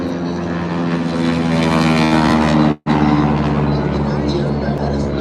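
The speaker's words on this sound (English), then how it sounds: "That is the propeller. The propeller tips are going supersonic" A propeller aircraft at the Beale AFB airshow roars loudly overhead, its prop tips going supersonic, producing a dense, buzzing, harmonic drone that cuts out briefly midway and then resumes.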